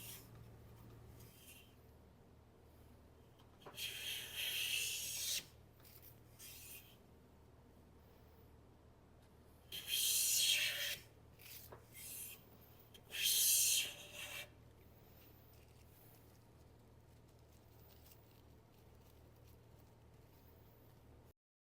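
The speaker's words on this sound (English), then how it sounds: "slowly bring that cut out more until I get one full cut, the full width of the board" A restored Stanley No 5 Type 11 hand plane takes shavings off a board in three separate strokes, each a short, bright rasping swish, with quiet pauses between them.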